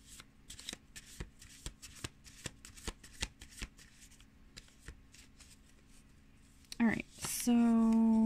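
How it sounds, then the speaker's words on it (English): Oracle cards from a witchy deck are shuffled, giving crisp close riffling flicks in a steady rhythm; a voice begins speaking near the end. "now we can pull one more card from the witchy deck here"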